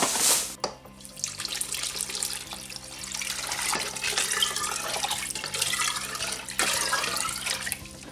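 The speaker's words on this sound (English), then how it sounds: "I'm going to add about 4 litres of water" About four litres of water pour steadily into a pot of mashed banana with sugar for banana wine, a continuous close splashing rush lasting several seconds with no talk.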